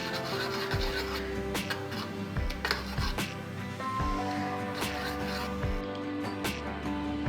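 Aloe vera gel being stirred into melted glycerin, heard as repeated scraping and rubbing strokes of a utensil against a container, moderately close and rhythmic, with no talking.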